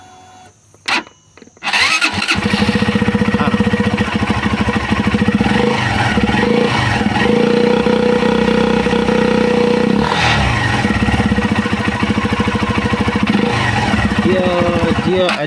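A Z15GT motorcycle fitted with an ESR air filter cranks and fires after a short quiet pause, then settles into a loud, close, deep idle with a few throttle blips and revs.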